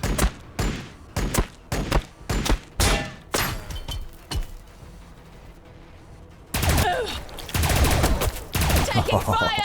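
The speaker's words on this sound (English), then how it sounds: "Taking fire! We're being brutalized." Gunfire in the video game Battlesector: a rapid run of loud, evenly spaced shots, a quieter stretch, then a dense burst of overlapping blasts and crackling fire.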